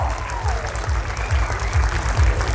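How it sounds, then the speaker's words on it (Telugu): An audience applauds children at a school's 46th annual day celebration, a steady, dense burst of clapping from a crowd filling the hall, with a voice faintly over it. "ఒక్కసారి అయితే గట్టిగా చప్పట్లతో మన పిల్లల్ని ఎంకరేజ్ చేద్దాం"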